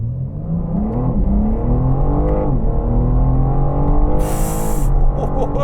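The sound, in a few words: BMW M4 Competition engine revving in car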